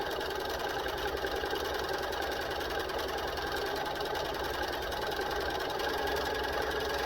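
Sewing machine stitching a fabric key chain, a steady continuous motor hum with rapid needle rhythm running throughout at even loudness, close and alone without talk.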